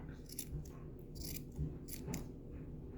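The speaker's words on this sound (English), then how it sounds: "And you take your scissors, and you give it a haircut." Quiet, crisp snips of scissors trimming a small craft snow hat, several short clicks at an uneven pace, close up and soft.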